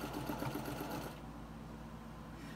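A sewing machine quilts a table runner, stitching a line and then figure-eight patterns. It gives a steady, close mechanical whir that softens partway through, with no talk over it.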